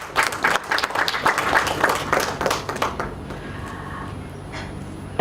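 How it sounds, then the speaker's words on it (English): Audience at a schooling conference in Dhaka, Bangladesh, claps warmly in a dense burst for about three seconds, then the applause thins into scattered claps and room noise. "Give a clap for Frances Ferreira from Open School."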